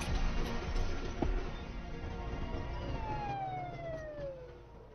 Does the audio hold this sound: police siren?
yes